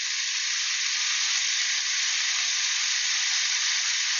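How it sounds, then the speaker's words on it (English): Burger patties searing in a pan over fierce heat, making a constant, even sizzle with no talk that holds steady and fairly close throughout. "So just let them cook in that fierce heat."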